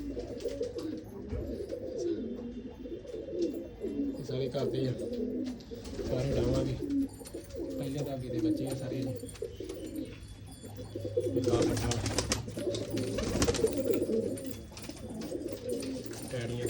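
Pigeons coo continuously at a loft, low rolling calls layered together near and far, while someone talks briefly over them and some clatter breaks in midway.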